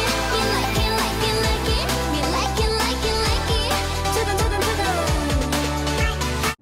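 A K-pop song plays loud and continuous with a thumping beat, dense synths and layered vocals filling the whole stretch without a break.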